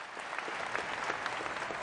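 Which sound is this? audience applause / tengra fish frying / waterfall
audience applause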